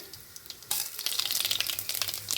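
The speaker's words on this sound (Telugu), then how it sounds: "తాలింపు దినుసులు వేసుకుంటున్నాను" Tempering spices go into hot oil in a pan and erupt into a sudden loud, crackling sizzle that keeps popping after a quiet start.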